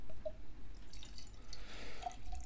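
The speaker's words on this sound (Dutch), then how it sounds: "ik ga hem snel inschenken" Arcadia Barrel Aged Shipwreck Porter, a dark imperial-style beer, pours into a glass with a close, splashing liquid trickle and a few distinct drips, heard alone.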